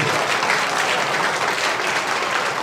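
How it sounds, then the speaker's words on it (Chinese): Congregation applauding in a church during a Sunday worship service, steady dense clapping from many hands filling the room with no talk over it. "再次掌声来鼓励鼓励"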